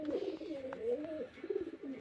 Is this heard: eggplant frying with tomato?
no